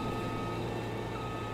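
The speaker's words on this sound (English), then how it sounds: "I was hoping the beeping wouldn't be too loud" Reversing beeps from a New Holland tractor in Farming Simulator 22, heard as a steady electronic tone over a low diesel engine hum, moderately quiet and continuous.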